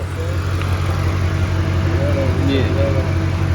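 The V8 engine of a new 2018 Shelby GT350 idles with a steady, loud, low rumble up close, while people talk over it.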